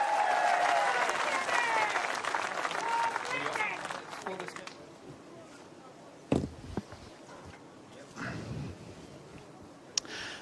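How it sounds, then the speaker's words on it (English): Crowd applauding a bowls player's introduction at the World Bowls men's singles final, Canada versus New Zealand; broad clapping under an announcer's voice fades after a few seconds, leaving quiet with a couple of sharp knocks. "let's give him a big round of applause, ladies and gentlemen"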